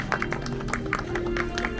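An outdoor audience claps at the unveiling of a memorial poetry stone for the late poet Kim Won-do, with quick, dense, overlapping claps of moderate loudness that continue steadily without voices.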